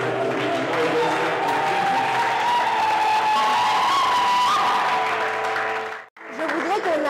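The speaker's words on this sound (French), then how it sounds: "On va applaudir pour Jésus." A worship congregation claps for Jesus in sustained, loud applause, with a steady hum and some cheering underneath. It cuts out briefly near the end, then picks up again.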